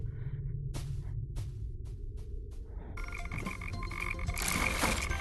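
Frogs croak in a VR video game: a steady, rhythmic croaking chorus over a low hum, growing denser and louder toward the end, with no voices.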